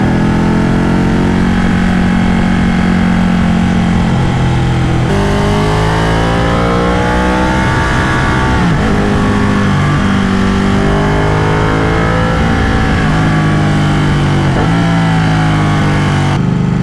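A Ducati Panigale 1199 S engine drones loud and steady while riding through slow traffic, with rising and falling pitch sweeps as the throttle is worked, plus constant wind rush and no audible talk.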